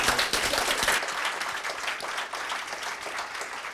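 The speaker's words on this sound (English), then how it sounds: "can everyone please give them a big round of applause" A crowd applauding steadily at a talk, dense clapping that starts loud and settles into a sustained, even roar of hands for several seconds.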